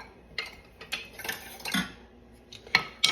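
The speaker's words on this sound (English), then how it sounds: "I'm just gonna stir the flour and the butter together" A utensil scrapes and clinks against a pan while flour and butter are stirred together, giving a series of light, irregular metallic taps and scrapes at close range, fairly quiet overall.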